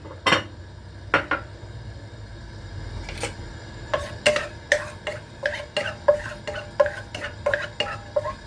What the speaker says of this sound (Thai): ผัดกระเทียมให้หอม